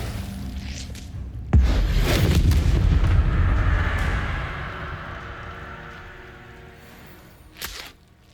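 A Bombarda explosion spell in Hogwarts Legacy lands with one heavy, close boom and a long rumbling decay. A second, smaller blast follows near the end.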